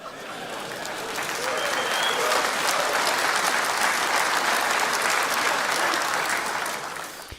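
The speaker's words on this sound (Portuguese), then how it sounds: "E eu não sei por que vocês estão batendo palmas." A large audience at a pastors' conference claps together, the applause swelling quickly, holding at an even roar and then tapering off toward the end.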